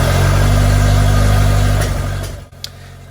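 A TVR Vixen Super Sprint engine runs on its first start after a rebuild, a loud, rough, throbbing idle that stumbles and cuts out after about two and a half seconds, followed by a brief click.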